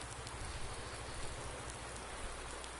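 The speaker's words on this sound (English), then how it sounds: "Well, it's rainy out today." Steady rain pours down on a grandpa's farm in Lone Oak, a dense, even hiss throughout with no voices.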